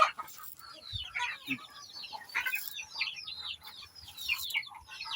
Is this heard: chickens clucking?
yes